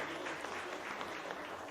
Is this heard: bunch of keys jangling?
no